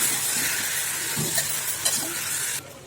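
Food lightly sautés in a pan with a continuous hissing sizzle and a few soft stirring scrapes, the hiss dropping away abruptly at the end.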